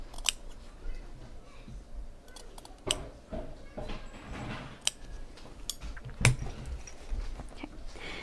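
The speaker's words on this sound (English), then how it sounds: "I will cut up to this corner diagonally, but I don't cut through the stitches." Scissors snip diagonally through fabric toward a corner of a handbag being sewn: a handful of sharp, separate clicks spaced irregularly over a quiet background, with faint handling noise between cuts.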